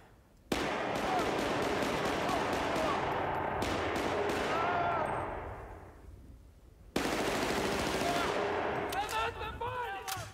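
Bursts of rapid automatic gunfire in the Battlefield Bad Company video game, a long sustained volley that fades out, then a second loud burst with echoing tails.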